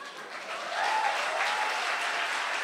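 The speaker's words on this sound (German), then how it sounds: "Ein Applaus für Felix." An audience at a science slam breaks into applause, a dense wash of clapping that swells after a moment and then holds loud and even.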